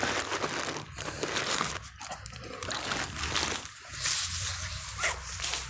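A small dog makes soft excited sounds amid crinkling and rustling on a cold outing, close to the listener and fairly loud, with scuffling noises around it.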